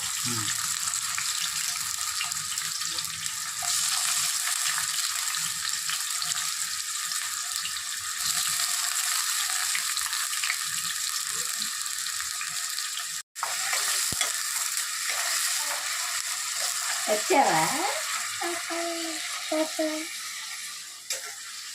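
Ingredients for an old-style chicken biryani fry and sizzle in hot oil, a steady close crackle with stirring scrapes throughout, briefly interrupted midway, while someone speaks faintly in the background.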